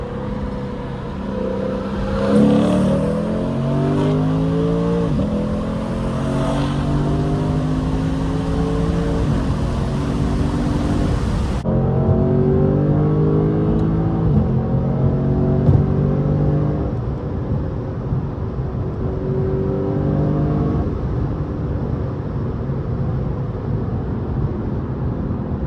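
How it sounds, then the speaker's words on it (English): Engine and exhaust note of a Lexus RC F echo through a tunnel, heard from inside the car as a steady drone with repeated rising and falling revs as it accelerates and shifts. "I'm purposely not talking a lot so that you guys could actually hear the exhaust, aka the engine."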